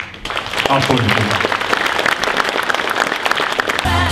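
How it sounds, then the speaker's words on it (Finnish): An audience at the Kerava sports gala in 2015 claps loudly in a dense, sustained burst of applause that fills the room and continues without pause. "Aplodit."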